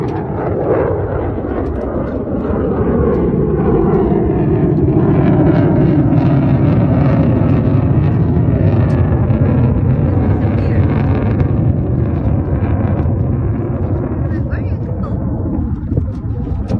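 An airplane flies past a boat with a steady, loud, rumbling drone mixed with wind noise, swelling slightly midway and lasting the whole stretch.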